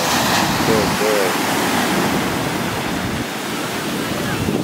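Ocean waves wash onto a beach in Puerto Rico as a continuous broad rushing surf, steady and close, with wind noise on the microphone.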